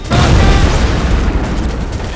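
In the video game Delta Force: Black Hawk Down, explosive charges detonate as one loud, close, booming blast whose low rumble fills the whole moment and fades only slowly.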